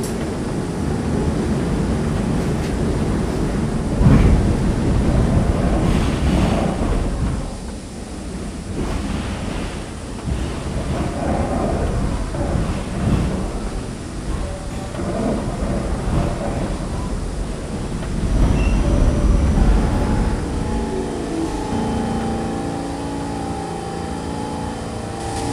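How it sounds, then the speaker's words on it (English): R46 subway car running on the New York City T local line toward Cross Bay Boulevard, a loud rumbling roar of wheels and motors that swells and fades as the train moves, with screechy tonal whines near the end. "This is a Cross Bay Boulevard bound T local train."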